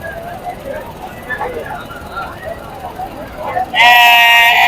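A two-year-old billy goat at Pebbair livestock market in Wanaparthy district, Telangana, gives one loud, sustained bleat close by, rising above a steady murmur of crowd chatter and market noise.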